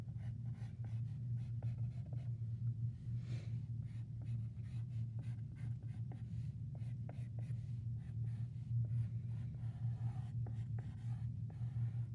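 A pencil sketches a half-circle squash shape on paper with a run of light, close scratching strokes over a steady low hum in a quiet room.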